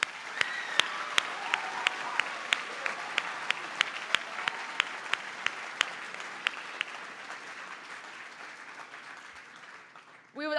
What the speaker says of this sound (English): that is something that should receive a round of applause